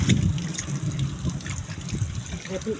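Water runs steadily into a kitchen sink, a continuous trickling splash at close range with low background clatter and murmuring under it.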